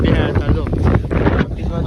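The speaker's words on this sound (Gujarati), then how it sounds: "જોરદાર પવન આવે છો ભાઈ" Strong wind at an outdoor Janmashtami fair buffets the microphone in loud, rumbling gusts throughout, with a voice speaking underneath.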